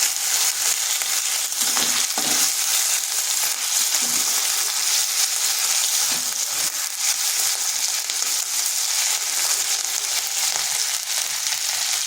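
Ginger paste and turmeric fry in oil with a loud, steady sizzle for a sustained stretch, broken by occasional stirring scrapes close up, with no talking.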